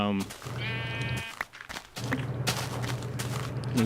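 A sheep in the Minecraft TerraFirmaCraft game lets out one short, close bleat early on, followed by thuds and footsteps, while someone talks over the game sounds.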